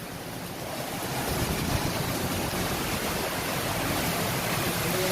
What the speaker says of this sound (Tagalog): Lakas ng ulan, mga lods.